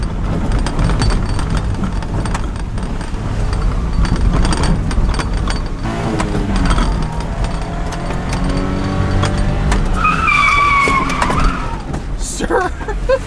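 Kei truck with a welded differential skids and drifts, its small engine droning close by as tires squeal and chatter in rising, wavering bursts toward the end, with people talking over it.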